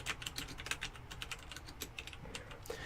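Rapid, close typing on a Logitech G910 Orion Spectrum mechanical keyboard, a quick, continuous stream of fairly quiet key clicks at a moderate level.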